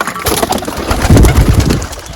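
Pigeons at a home loft make a short, close burst of cooing and fluttering.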